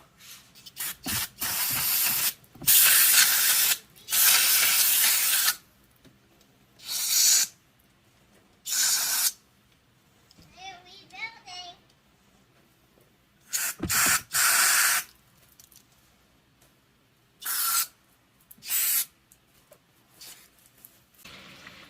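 Compressed air blasting through the orifices of a 1997 Suzuki Quadrunner carburetor, heard as loud, close hissing bursts of varying length with quiet gaps, some short puffs and a few longer sustained blasts.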